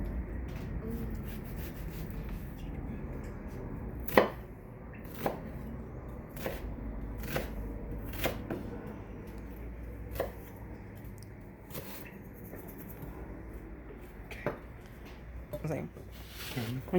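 Big chunks of chicken being chopped on a board for lemon chicken, a series of sharp knife strikes spaced irregularly over a steady low background hum, fairly close.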